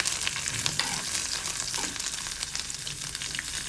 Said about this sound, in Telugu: ఇందులో అల్లం ముక్కలు బాగా వేగాలి. అల్లం ముక్కలు పోపు బాగా వేగితేనే చట్నీ టేస్ట్గా ఉంటుంది.